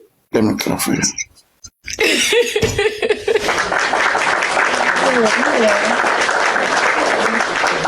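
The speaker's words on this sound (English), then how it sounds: "Let me clap for you." A group of people clapping in a room, dense sustained applause rising after a few short isolated claps, loud and close, with voices and laughter mixed in.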